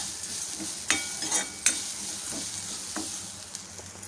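A ground ginger and green chilli paste being sautéed in a pan, a close continuous sizzle with repeated scraping stirs and light clinks of the utensil.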